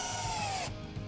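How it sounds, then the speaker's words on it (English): A Worx Switchdriver cordless drill/driver whines at high speed driving a screw into tropical hardwood, a brief close loud burst that cuts off abruptly, leaving a low rumble. "I just drilled this tropical hardwood and now I'm gonna be screwing into it."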